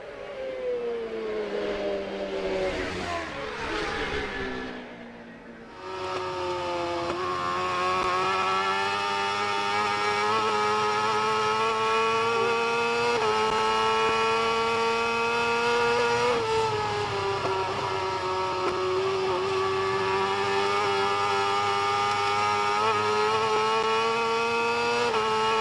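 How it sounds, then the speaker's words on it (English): Superbike and superstock racing motorcycles scream along the Macau Grand Prix street circuit, engines rising and falling in pitch through gear changes, one dropping away before another climbs back to a sustained high wail, loud and unbroken with no voices. "The rest, the likes of Michael Evans, etc., all racing superstock engines."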